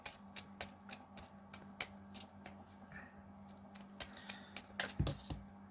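A deck of Magic: The Gathering playing cards being shuffled by hand: quick, crisp riffles and riffs repeating in a fast irregular rhythm, close and fairly quiet, with no talk.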